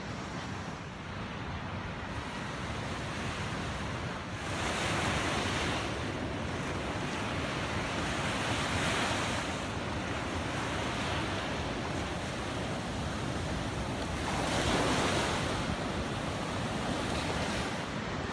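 Ocean surf rolls onto a Kauai beach in the morning, a steady broadband wash with waves swelling and breaking every few seconds, blended with gusting wind buffeting the microphone; no voices.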